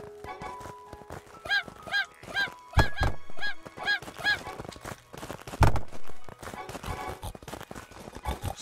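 Chickens in the video game Craftopia give a run of repeated, nasal clucking calls in quick succession, fairly close, with scattered thuds and other game sounds around them.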